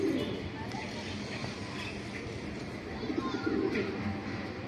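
Racing pigeons coo in low, overlapping murmurs close by, with a louder swell near the end and faint background voices.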